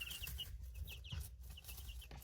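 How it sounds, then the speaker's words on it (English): Newly hatched baby chicks from an incubator peep in quick high-pitched chirps over a low hum, several birds close together and faint. "here are the baby chicks, which is what we really want to see anyways"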